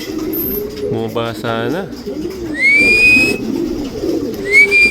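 Racing pigeons at a group training loft coo in low, throaty bursts, with a few higher whistle-like tones. Someone speaks close by over the birds.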